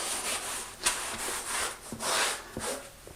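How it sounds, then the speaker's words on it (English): A cloth or sponge rubs across a plywood subfloor in a few short, soft strokes, with faint scuffs and light taps in between. "so just a light wipe down of the area."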